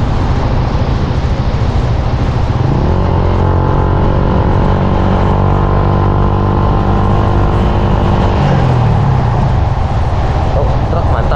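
A truck passing by on a road during a family trip, a loud drawn-out engine roar with rising and falling tones that builds, holds and then fades.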